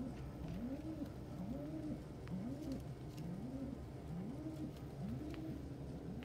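A female pigeon coos repeatedly in a steady rhythm of soft, rolling calls, greeting her mate close by over a constant low background hum.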